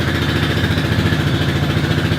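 Kymco scooter engine idling high, a loud, close, steady buzzing putter with a fast even pulse and no talking.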